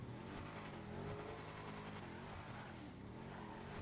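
A Coil Brawler rally-fighter car in GTA 5 driving outdoors, its engine revving hard and steady at close range with a gritty, continuous roar and a slight tire squeal.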